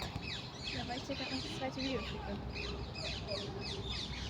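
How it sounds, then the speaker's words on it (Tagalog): A flock of parrots calling outdoors, repeated short chirps and squawks spread across the clip, fairly faint, with soft voices talking underneath. "Look, the parrot."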